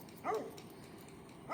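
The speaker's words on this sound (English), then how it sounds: "Those dogs are saying hi to y'all." Neighbors' dogs at a campsite in a state park let out a short yipping bark, then a second bark begins at the end, both fairly distant over steady outdoor background.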